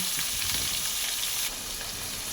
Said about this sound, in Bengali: আলু আর পটলটাকে আমি প্রথমে ভেজে নেব